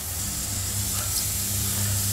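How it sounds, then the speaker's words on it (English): Bratwurst searing over direct heat on a charcoal grill, a steady, even hiss of sizzling fat running close and constant with no talking. "I'm going to bring these over here on the grill over some direct coal here, and we're going to get some sear on the outside"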